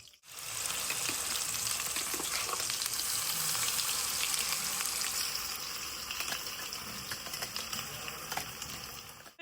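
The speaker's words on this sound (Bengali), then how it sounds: "এবারে কড়াইয়ে আমি কাঁচা লঙ্কা ফোড়ন দিয়ে দেবো।" Green chilies sizzle as a tempering in a wok, followed by a spice paste frying for ridge gourd bharta, giving a sustained, dense crackle with a few stirring scrapes.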